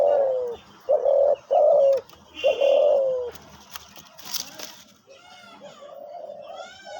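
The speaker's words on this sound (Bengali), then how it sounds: "অসম্ভব ঝুমুর দেয় পাখি" A dove coos close by in a few low, repeated rolling phrases, followed by softer chirps and faint background noise.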